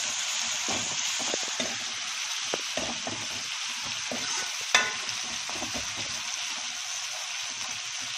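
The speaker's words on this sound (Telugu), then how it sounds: "అల్లం వెల్లుల్లి పేస్ట్ వేసి కొంచెం అల్లం పచ్చివాసన పోయేంత వరకు వేయించుకుందాం" Ginger garlic paste frying in a pan, a continuous soft hiss overlaid by frequent scraping stirs and one sharper knock, close and moderate in level with no speech.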